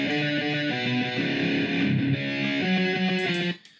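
A MIDI-rendered electric guitar solo plays alone, a steady run of synthetic, plasticky sustained notes in a clear melodic line that cuts off abruptly near the end.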